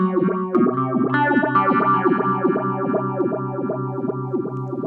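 Chase Bliss Audio Wombtone analog phaser pedal set to fast attack and slow decay, guitar chords swept by a steady, rhythmic whooshing phase that pulses several times a second, loud and close with no talk.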